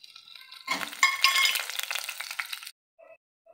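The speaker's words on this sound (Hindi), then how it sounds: "इसमें हम कटी हुई हरी मिर्च, अदरक का टुकड़ा और करी पत्ते डाल देंगे, और इसे कुछ सेकंड के लिए भूनेंगे" Green chillies, ginger pieces and curry leaves dropped into hot oil burst into a loud, crackling sizzle for about two seconds, then it cuts off, leaving a few faint clinks.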